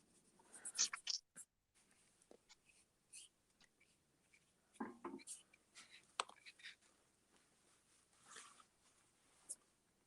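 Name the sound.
pen drawing with ink on paper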